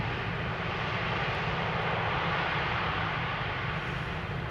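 A fixed-wing airplane at Schiphol Airport gives a steady, broad engine roar that holds constant and fairly loud throughout, with no voices.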